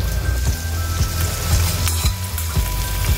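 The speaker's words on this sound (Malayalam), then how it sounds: "ഞാനിപ്പോൾ ഗാർലിക് ഇട്ടു. ഇനി അതൊന്ന് ചൂടായ ശേഷം, കുക്കായ ശേഷം റെഡ് ചില്ലി ഫ്ലേക്സ് ആഡ് ചെയ്യാം." Garlic sizzles loudly in a hot pan while cooking stir-fried lotus roots, with a utensil scraping and stirring in a steady rhythm about twice a second.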